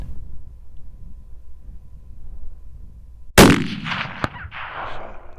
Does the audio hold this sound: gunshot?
yes